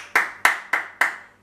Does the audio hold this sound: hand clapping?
yes